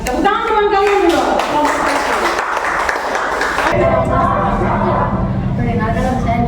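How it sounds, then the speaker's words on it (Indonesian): Classmates in a classroom applaud with a burst of rapid, dense hand clapping under children's chatter and a voice, the clapping thinning toward the end. "Tepuk tangan teman kalian dulu."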